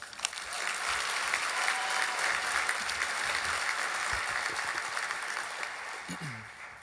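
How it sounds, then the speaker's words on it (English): Steady, dense applause from a breakfast audience at a Boys & Girls Club foundation event, sustained throughout and tapering slightly near the end as a voice briefly comes in. "How about another round of applause for Nevin?"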